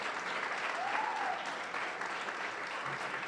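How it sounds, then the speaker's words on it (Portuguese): Applause for the guests at a seminar, a dense, even wash of many hands clapping at moderate distance, holding steady throughout with a brief faint voice near the middle. "queria pedir uma salva de palmas para os nossos convidados"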